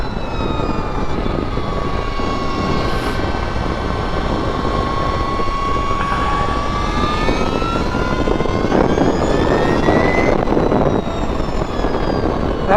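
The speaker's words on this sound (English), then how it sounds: "That was a full throttle twist, and it goes." Energica Ribelle RS electric motorcycle, a 2022 model, accelerating hard at full throttle, its rising electric whine climbing steadily in pitch over loud, constant wind roar, close and sustained throughout.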